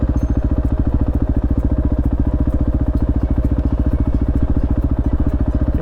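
A motorcycle engine runs loud and close with a rapid, even pulsing throb, steady throughout with no clear rise in revs, and no talk over it.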